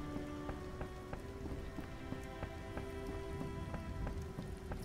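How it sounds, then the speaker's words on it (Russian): Rain in The Witcher video game: a steady soft patter of drops on surfaces, continuous and fairly faint, with a low ambient game hum beneath and no talk. "Дождь начался."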